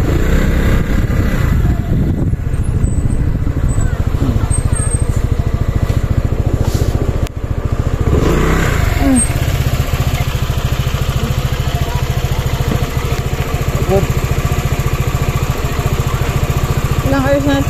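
A Euro Griffin 180i motorcycle engine hums steadily and loudly throughout a night ride, a continuous low drone with rough road and wind noise.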